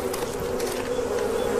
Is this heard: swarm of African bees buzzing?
yes